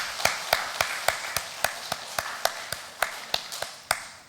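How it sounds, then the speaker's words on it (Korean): Korean church congregation at a summer revival service clapping together in a steady, even rhythm, about four sharp claps per second, crisp and close with no talking over it. "우리 하나님께 박수로 영광 올려드리겠습니다"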